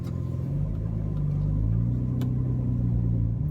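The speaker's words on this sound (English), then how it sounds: "this one's got a nice custom exhaust on it" A 2010 BMW E90 328i straight-six with a custom exhaust drives along, giving a steady, loud, close low rumble that swells slightly as the engine pulls, with no talking.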